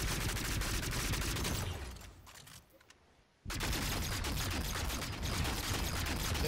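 Rapid bursts from an Impulse gun in a futuristic first-person shooter game, fast rattling automatic fire loud and close, pausing briefly midway for about a second before resuming in another sustained burst.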